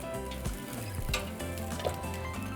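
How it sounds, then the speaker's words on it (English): Tomatoes and serrano chiles roast and sizzle in a pan, a steady close crackle with a few soft scrapes, fairly quiet and with no talking. "we're going to roast our 3 tomatoes, our chile serranos"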